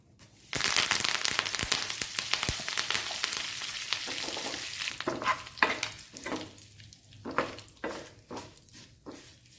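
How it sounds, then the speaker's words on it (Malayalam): Sizzling hiss of leaves frying in hot oil, loud and steady, with a spoon stirring and scraping the pan in bursts toward the end. "ഇനി നമുക്ക് കറിവേപ്പില ഒന്ന് വറുത്തെടുക്കാം."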